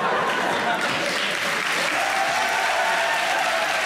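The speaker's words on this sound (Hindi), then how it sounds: "ताली होनी चाहिए भाई" Dense, steady audience clapping fills a studio comedy show, loud and sustained throughout with no break.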